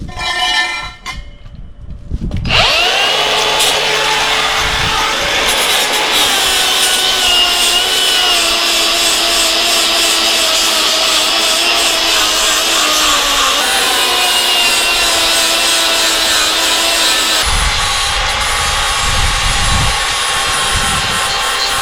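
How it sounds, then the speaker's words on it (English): A flap disc grinds on a shop sign with a loud, harsh, continuous rasp that starts abruptly after a few quiet seconds and keeps going, its pitch wavering slightly. "then we'll hit this with the flap disc"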